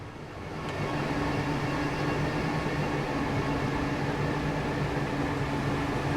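Train arriving in the Transport Fever 2 video game, a faint, steady mechanical rumble and hum that swells in over the first second and then holds evenly.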